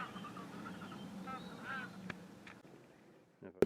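Geese honk noisily along a promenade at Grange-over-Sands around sunrise, a run of calls over background murmur, then a sharp loud honk right at the end.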